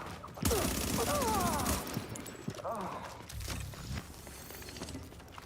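Bursts of gunfire from the video game The Division 2: a sharp volley of rapid shots at the start, then scattered single shots and clatter, with a voice speaking over parts of it.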